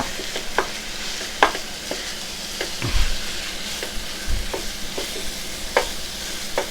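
Impossible Burger plant-based meat sizzles steadily in a frying pan while a utensil breaks it up, with repeated scraping and tapping strokes over the constant fry, close and fairly loud.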